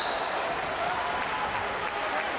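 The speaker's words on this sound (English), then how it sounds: "Mike Lofrese has his little cheering section of Garden City contingent in the stands" Spectators at a high school wrestling championship clap and cheer steadily from the stands in a gym, a dense continuous wash of applause with voices mixed in.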